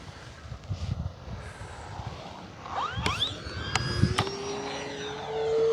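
An E-flite T-28 Trojan V2 RC model airplane with a 1.2 m wingspan flies overhead outdoors. Its motor whine rises and sweeps in pitch as it passes, over a steady background of wind.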